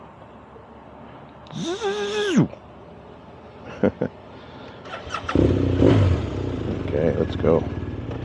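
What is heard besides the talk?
Ducati Panigale V4S motorcycle riding off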